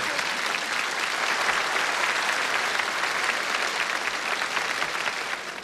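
A studio audience at a 1982 Zum Blauen Bock television show in Bad Wimpfen claps in sustained, even applause that fills the room and fades slightly at the close.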